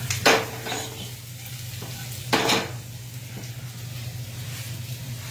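Steady sizzling of vegetables frying in a non-stick pan, with a couple of brief louder clatters or stirring bursts near the start over a constant low hum.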